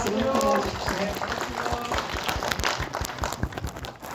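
An audience claps to welcome council members at a Gangnam district development briefing; the clapping is steady and broadband, with a voice speaking over it at the start.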